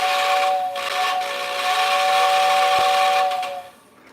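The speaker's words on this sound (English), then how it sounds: "That's a pretty loud whistle, eh?" A loud, close model train steam whistle blows steadily with a hissing edge and a brief wooden knock partway through, then cuts off near the end.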